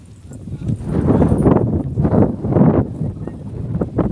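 Strong wind on a high hill road at Meghamalai buffets the microphone in loud, gusty rumbling surges that rise and fall for several seconds, with no clear talk.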